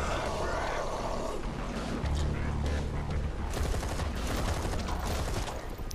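An automated turret in the zombie game Zombi keeps up sustained rapid fire for six seconds, a dense clatter of shots with low rumbling effects and brief grunts mixed in.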